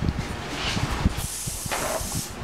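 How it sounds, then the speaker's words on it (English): A steady hissing spray from a cooking spray can onto a meatloaf pan, close and continuous, with faint clatter and knocks underneath. "spray your entire meatloaf pan"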